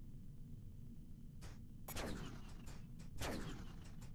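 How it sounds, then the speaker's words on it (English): Spaceship cannons fire in the Starship EVO game: several sharp blasts with crackling decays, punching out over a low steady hum, with the louder shots coming in pairs. "It actually has cannons."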